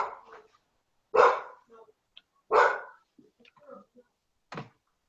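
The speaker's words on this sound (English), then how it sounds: "Is that your dog or is that another dog?" A dog barks in a few separate, fairly loud bursts spaced about a second apart, with quieter scattered sounds and faint voice-like noises between them in an indoor home setting.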